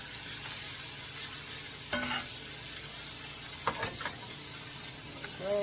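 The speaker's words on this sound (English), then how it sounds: "So, get a good sear on that side." A burger sears in a hot pan with a steady, fairly quiet sizzle and hiss, a few scraping stirs and light clinks of a utensil cutting in now and then.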